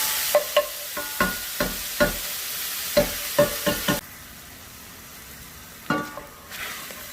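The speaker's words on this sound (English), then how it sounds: "It works great at breaking up your big pieces of ground beef into chunks." Ground beef browns in a pan while a masher tool breaks it up: a run of sharp scraping strokes in uneven rhythm over a soft sizzle, then a quiet pause and a couple more strokes near the end.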